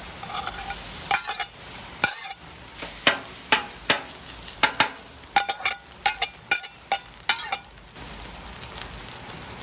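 Fried rice being stir-fried in a hot pan in hibachi style: steady sizzling with a run of sharp, irregular clanks and scrapes of a utensil against the pan, close and alone.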